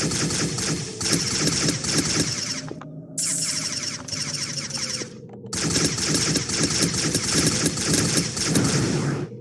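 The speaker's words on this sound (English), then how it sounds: "when the turret shoots at us, we have a little bit of cover" A turret in a first-person shooter video game fires at the player in rapid automatic bursts, loud and close, broken by two short pauses, with a rising mechanical whine underneath.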